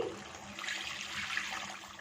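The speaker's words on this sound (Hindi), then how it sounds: "सो स्टेज में इसमें पानी शामिल करेंगे।" Water is poured into a cooking pot of mutton paya after the meat has been fried in oil, a steady splashing gush that runs for a couple of seconds at moderate volume, with no talking.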